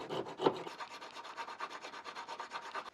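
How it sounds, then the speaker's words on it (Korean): A hole is carved into a wooden handle for a Japanese kitchen knife, producing a steady series of quiet, close scraping strokes in a quick regular rhythm. "이제 칼에 맞춰서 이 구멍을 파줄 겁니다"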